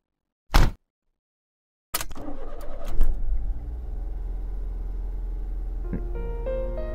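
A car door shuts with a single sharp thump, then after a brief silence the engine cranks, catches and settles into a steady, close idle hum.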